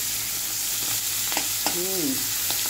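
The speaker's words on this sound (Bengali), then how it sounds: "ওকে, চিংড়িগুলো ততক্ষণ ভাজা হোক" Large shrimp frying in hot oil, a strong steady sizzle heard close up, with a few light clinks from stirring and a brief tonal squeak partway through.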